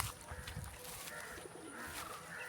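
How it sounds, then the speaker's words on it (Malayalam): A pigeon coos softly among a group of pigeons near a stream, with a few low murmuring calls over faint outdoor background noise and no talking. "പ്രാവ് കുറുകുറുന്ന് വയ്ക്കുന്നു"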